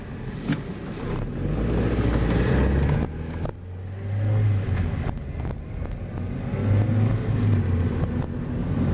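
A 2001 Mazda Miata MX-5 with a 5-speed manual idles and revs as it slows and stops quietly, with steady road noise and no squeal of brakes.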